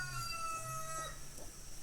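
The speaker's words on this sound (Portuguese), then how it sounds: "Olha o galo cantando." A rooster crows in one sustained, harmonic call that holds fairly steady and then tails off, heard alone at moderate volume with no talking.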